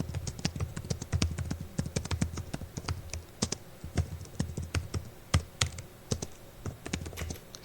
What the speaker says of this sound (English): A lot of fake keyboard sound going on.